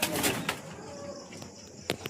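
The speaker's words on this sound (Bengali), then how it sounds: "দেখো পায়রা দুটো" Pink pigeons, a male and a female, give soft low coos close by, with a couple of faint wing or foot rustles and light background noise.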